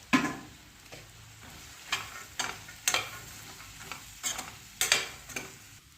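Peas, potatoes and other vegetables fried and stirred in a pan, with a steady sizzle under repeated scraping strokes of the spoon every second or so, close and fairly quiet.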